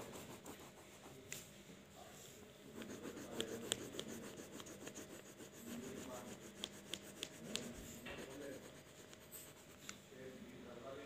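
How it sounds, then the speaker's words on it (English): A crayon rubs steadily across a paper activity-book page as a picture is coloured in, a soft, continuous scratchy scraping with quick back-and-forth strokes, close and quiet. "you have to color the whole picture with the help of the crayon"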